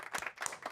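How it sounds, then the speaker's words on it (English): A short burst of applause and clapping in a casual New York setting, a few quick, fairly quiet claps over less than a second. "big round of applause for Eli Lesser"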